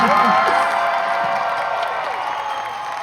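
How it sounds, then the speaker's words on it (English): An audience at a convention panel applauds and cheers, a dense, steady wash of clapping and whoops from a large crowd that slowly eases off. "can we all give a fucking round of applause for Vicky?"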